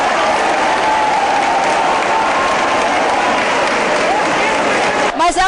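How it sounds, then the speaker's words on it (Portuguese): Crowd applause at a ceremony for a teacher staging a solitary protest over early childhood education, dense and continuous throughout, with a voice breaking in briefly at the very end. "aplausos."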